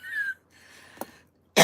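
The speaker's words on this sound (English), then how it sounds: "Don't make me laugh, you'll have me coughing." A single short, sharp cough bursts out near the end, loud and close, after a few seconds of quiet, faint tonal background sounds during a casual live chat.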